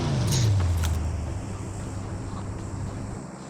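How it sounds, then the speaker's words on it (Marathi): A vehicle in the mobile game BGMI arrives, its engine note sliding downward as it nears, then settling into a steady, loud motor hum with wind-like noise. "गाडी आली, गाडी अरे आली, गाडी आली."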